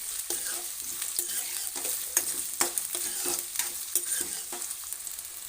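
Chopped onions frying in a pan get stirred with repeated rhythmic scraping strokes over a steady background sizzle, each stroke a sharp, close swish.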